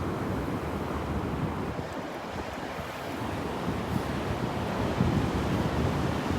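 Strong wind buffeting the microphone mixes with steady rolling surf on a Delnor-Wiggins beach in Florida, a loud continuous roar with no clear breaks and no talking.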